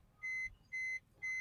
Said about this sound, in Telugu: అంటే డోర్ ఓపెన్లో ఉంది కాబట్టి మనకి ఈ అలారం సౌండ్ అయితే వస్తుంది.